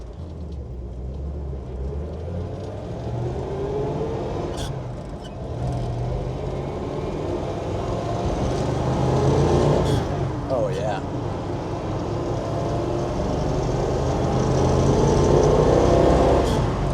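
A 1967 Mustang Fastback 390 GT V8 engine hums and revs steadily from inside the cabin, rising in pitch during acceleration, with a brief remark spoken over it.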